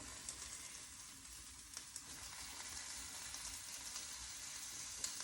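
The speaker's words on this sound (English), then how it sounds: "we're gonna let those grill really nicely on each side" Stuffed squid grilling in a hot pan, giving a steady, soft, continuous sizzle and crackle with a few small pops, no voices.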